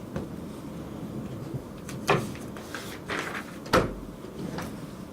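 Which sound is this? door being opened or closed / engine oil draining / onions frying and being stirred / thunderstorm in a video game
door being opened or closed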